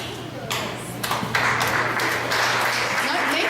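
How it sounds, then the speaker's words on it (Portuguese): An audience at a community family-law talk in Uberaba applauds volunteers, with clapping swelling to a steady patter that builds after the first second. "para que fiquem de pé e recebam o aplauso da comunidade"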